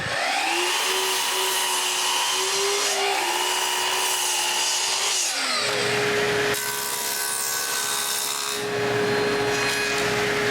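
Cedar boards for a patio table being cut with a power saw: a steady loud whine with a pitch dip near the end of the first cut, then a second cut that runs on alone.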